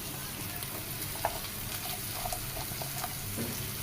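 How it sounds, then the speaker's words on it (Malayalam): Green chillies sautéed with salt in a pan for a crab roast, a steady close sizzle with a few faint stirring clicks; no talking. "ഇതെല്ലാം കൂടെ ഒന്ന് വഴറ്റിയെടുക്കാം."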